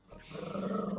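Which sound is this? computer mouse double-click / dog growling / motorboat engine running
dog growling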